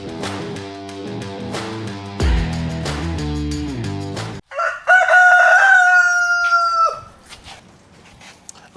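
A loud rooster crows once, a long drawn-out call that follows a few seconds of music and then fades into quiet.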